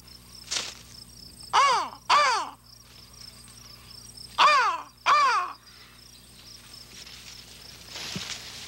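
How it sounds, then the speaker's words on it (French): A crow in the woods gives four loud caws in two paired bursts, close and clear, with faint insect buzzing and quiet rustling between them. "ça devait être une corneille que j'ai entendue"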